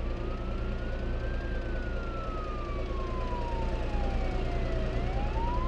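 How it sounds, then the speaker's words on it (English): A police siren wails in the BeamNG.drive driving game, a single slow rising and falling tone that sounds fairly distant and faint over a steady engine rumble. "Wait, is that siren getting closer?"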